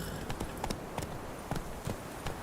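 Roach, Geralt's horse, galloping in the video game The Witcher 3, a faint, regular pattern of soft hoofbeats against a quiet background.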